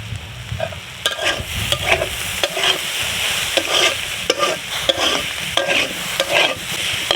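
Snake gourd bhaji frying and being stirred in a pan: a steady, close sizzle with repeated scraping strokes of the spatula, alone without voices.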